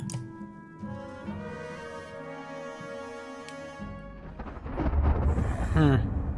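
Thunder and lightning in The Banner Saga 2, a deep rumble that builds and crackles over a sustained musical score, growing louder toward the end.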